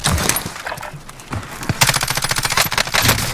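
Gunfire in Call of Duty: Warzone using a RAM-7 rifle: sharp rapid automatic bursts, a short volley early, then a longer loud rattling burst after a brief pause, with faint game noise between.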